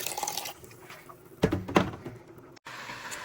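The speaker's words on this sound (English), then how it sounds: "Then add hot water here to get some out." Hot water splashes and pours into a large pot in a couple of short bursts, with some clattering, moderately close, against a faint background hiss.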